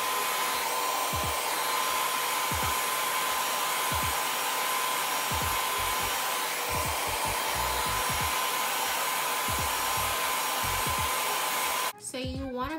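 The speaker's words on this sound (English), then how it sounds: "we're gonna go in with the blow dryer" A handheld blow dryer runs continuously and close up, a steady loud whirring hiss while drying glue on a wig lace, cutting off abruptly near the end.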